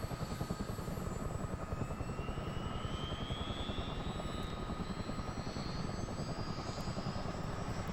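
A CH-47 Chinook helicopter engine spins up in the Miltech simulator, a loud, dense rotor chop and turbine roar with a rising whine climbing steadily in pitch throughout, no talking.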